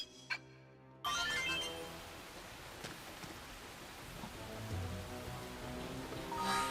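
Rain in the Xenoblade video game, a steady broad hiss of falling drops that starts abruptly after a short chime and carries on evenly with light patter, no one talking.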